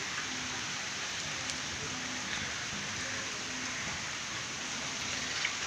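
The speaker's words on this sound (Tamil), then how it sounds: "மழை பெஞ்சிக்கிட்டு தான் இருக்குது." Steady rain falls in Chennai under a smoky, overcast sky, a dense continuous hiss of drops close by and even in level throughout, with no voices.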